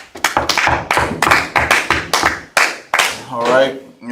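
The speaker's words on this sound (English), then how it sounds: "Clap it up" Loud, rhythmic hand claps repeat in a steady beat, close and punchy, with a voice talking under them near the end.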